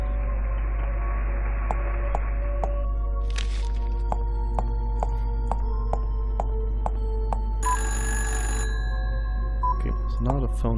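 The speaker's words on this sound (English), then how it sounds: "Now the phone's ringing." In the video game Fran Bow, an electronic telephone rings in two separate bursts about five seconds apart. Each ring sits over a steady low hum and a soft ticking, plucked musical background.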